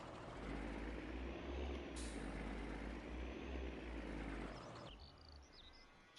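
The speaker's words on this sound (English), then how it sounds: "But this tractor right here, I love this thing. It sounds so nice." A tractor engine in Farming Simulator 19 runs loud and steady with a deep, throaty rumble and a hiss. It drops off abruptly near the end, leaving faint clicks and game sounds.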